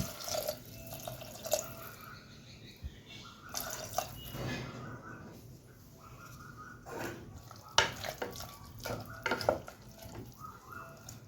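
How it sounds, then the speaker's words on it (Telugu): A little water poured over bitter gourd pieces in a pressure cooker makes intermittent splashes and trickles, with a few louder sloshing bursts and light clatter, close by and without speech. "కొంచెం వాటర్ పోసుకొని టూ విజిల్స్ వచ్చే వరకు మనం కుక్కర్ మూత పెట్టుకుందాము కొంచెం వాటర్ వేసుకుందాము"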